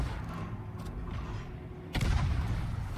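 Naval gunfire from a warship in World of Warships, a sudden deep boom partway through that rises over a low rumbling battle ambience and lingers, with quieter thumps earlier.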